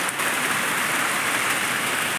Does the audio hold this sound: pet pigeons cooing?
no